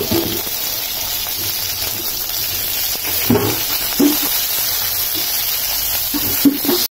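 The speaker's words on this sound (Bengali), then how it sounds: "এই যে এটা ভাজা হচ্ছে" Tomato, green chili and ginger paste frying in a pan, making a continuous loud sizzle with a few brief stirring knocks near the end.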